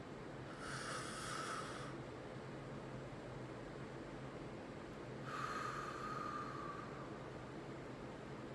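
A person breathing in deeply: two long, airy inhalations a few seconds apart, soft and close against a faint background hiss.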